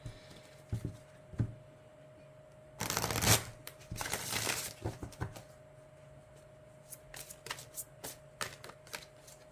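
Tarot cards are shuffled by hand in quick riffling bursts and scattered soft taps, with one long dense riffle in the middle and no talking.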